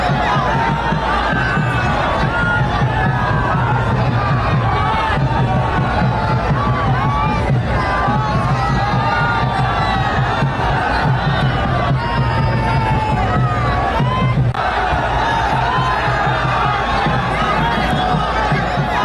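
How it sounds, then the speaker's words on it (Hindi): A huge crowd roars and cheers continuously at PM Modi's rally in Purulia, a dense, loud wall of shouting voices with whistles and chants that never lets up. "पुरुलिया की तस्वीर है और यहाँ पर जबरदस्त भीड़ नजर आ रही है"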